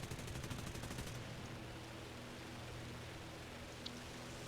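Tank turret gunfire in War Thunder, a rapid burst of automatic fire in the first second over steady wide engine and battle noise, then a continuous low rumble.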